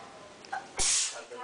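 A single sharp sneeze bursts out close by, a brief noisy blast following a faint inhaled buildup, with soft voices and room murmur around it.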